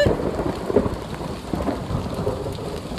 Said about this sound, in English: I think it's our first thunderstorm